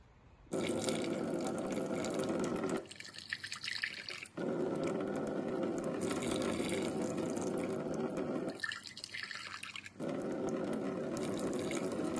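Running tap water rinsing plant explants three times during callus tissue culture preparation, a steady broadband gush that stops and restarts in several bursts, close and moderately loud, with no talking.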